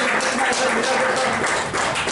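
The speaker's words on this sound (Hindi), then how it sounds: "अरे तालियां बजाते रहिए" Audience applause at a Hindi poetry gathering, a steady dense wash of clapping with a voice rising over it throughout.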